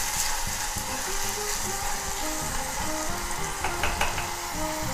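Onion with salt frying in a pan, a loud continuous sizzle and crackle up close with faint stirring clicks, no talking.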